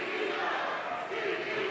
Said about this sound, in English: Crowd definitely behind Mercedes.